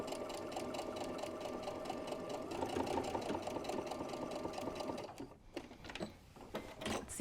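A sewing machine runs a steady stitching line through apron fabric with a close, even mechanical hum, then stops and leaves a few quiet handling clicks and rustles.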